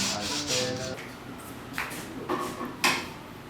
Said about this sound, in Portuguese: Onde eu vou lixar toda a tinta, passar massa plástica. Depois vai ser lixado de novo pra ser repintado.